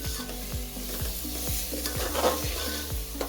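Masala sizzles in oil for village-style misal while a spoon stirs it, so regular scraping strokes land about twice a second over a continuous, close crackle.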